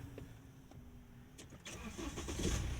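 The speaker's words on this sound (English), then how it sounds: "engine start." A BMW 320d E92 M Sport diesel engine starts: a brief crank, then a close, rising rumble that settles into a steady low idle, with no speech.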